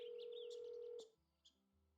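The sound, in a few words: telephone dialing in the video game Nancy Drew: Trail of the Twisters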